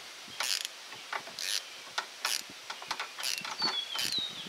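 A ratchet wrench on several extensions tightens the final radiator hose on a Ford F-150, giving short bursts of close, quick clicking separated by brief pauses, with no talk.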